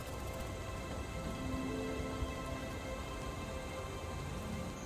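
Steady rain falls on a wet August day at Crabtree Nature Center, a dense, even hiss of drops on leaves and surfaces with a faint low rumble underneath and no voices.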